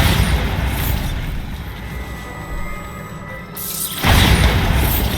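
A Bombarda spell explosion in Hogwarts Legacy, a rumbling blast that fades, then a second loud burst near the end, close and heavy with no talking.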